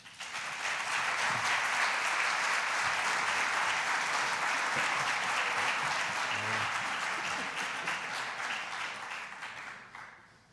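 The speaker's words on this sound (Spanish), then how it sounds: "les iba a pedir para él pues un aplauso de bienvenida." Audience at a lecture breaking into sustained welcoming applause, dense and even, fading out at the end.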